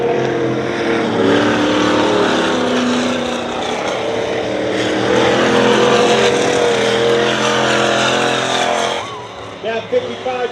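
A racing truck on fresh tires roars around a dirt oval raceway with other engines, a loud, continuous snarl that rises and falls through the turns, while a commentator talks over the noise near the end.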